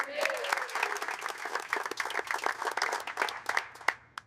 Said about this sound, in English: People clap at retirement.